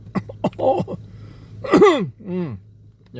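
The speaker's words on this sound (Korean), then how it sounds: "감기기가 있는 관계로 기침이 나오려고 했습니다." A single rough, throaty cough bursts out after a few short vocal sounds, followed by a brief strained vocal noise; close and fairly loud.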